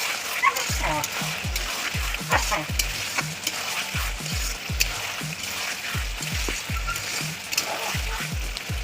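Meat and chopped medium tomatoes fry in a pan, giving an even sizzle under a regular series of dull low knocks from stirring that recur about twice a second throughout.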